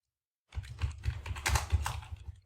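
Quick typing on a computer keyboard, a close run of brisk keystrokes lasting about two seconds after a moment of silence, with no talking.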